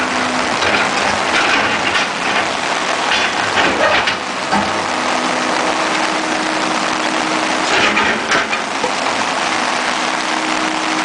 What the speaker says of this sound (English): Look at the rain! Oh my God! It's a freaking downpour!